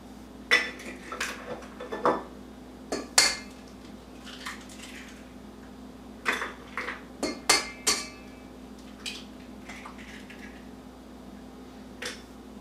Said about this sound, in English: I'm going to crack 3 eggs in here.